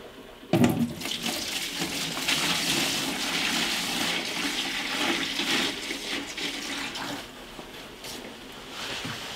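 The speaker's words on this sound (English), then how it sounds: "Pour it again into the bucket." Acid poured into a bucket during beehive fumigation for Nosema; a steady splashing pour begins abruptly and runs continuously, fairly close, easing slightly near the end.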